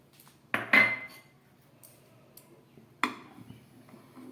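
Lemon juice poured into thickened hot milk simmering on a low gas flame, followed by clinks of a spoon against the pot; two sharp metal knocks stand out over quiet background.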